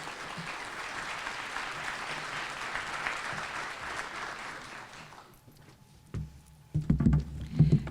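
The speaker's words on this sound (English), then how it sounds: "Please give her a round of applause." Audience at a creek and watershed symposium applauding as a county supervisor comes up to speak, steady clapping for about five seconds that fades out, followed by a few close handling thumps.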